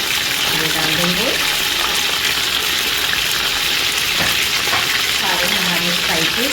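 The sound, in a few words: meat frying with onion, garlic-ginger paste and spices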